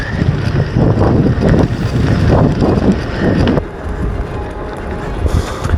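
Loud, steady headwind buffeting a microphone while cycling at about 30 km/h, a constant roaring rush that drops slightly toward the end, with no talk.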